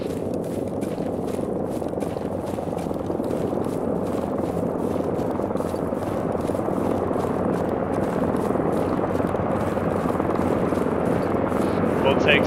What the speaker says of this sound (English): We're all going into one big helicopter.